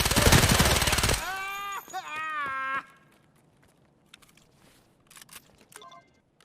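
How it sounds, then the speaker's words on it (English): Rapid automatic bursts from a 9mm Vector submachine gun in Escape from Tarkov fire at the boss Killa, loud and dense at first, followed by a pained, wavering cry and then sparse quieter clicks and movement. "a clip somewhere in this video of me killing KILLA with the 9mm Vector"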